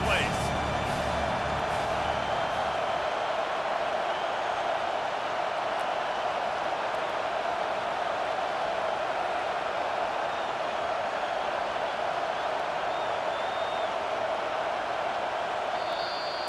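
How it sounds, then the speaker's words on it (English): A dense, steady roar from a packed stadium crowd on a third down in EA Sports College Football 25 fills the whole stretch without let-up, with a commentator's voice over it. "this crowd is tearing the lid off this place."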